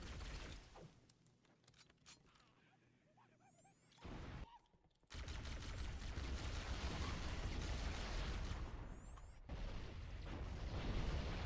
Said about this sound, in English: A lot of explosions just happened.